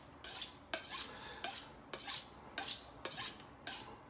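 A knife is drawn repeatedly along a honing steel without diamond dust, giving about eight crisp, rhythmic metallic scraping swipes close by, each ending in a bright ring, with no talking.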